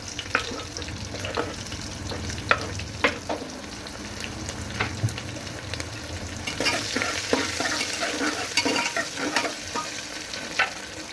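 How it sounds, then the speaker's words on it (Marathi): Chopped onion hits hot oil already seasoned with cumin and ajwain for masala rice, giving a steady, close sizzle with repeated spoon scrapes and clinks that grow busier and louder midway. "आता मी लगेच त्याच्यामध्ये कांदा पण घालून घेणार आहे।"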